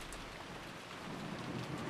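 Steady rain falling in the visual novel game Umineko Chiru, a soft continuous patter with a low rumble beneath, faint and without voices.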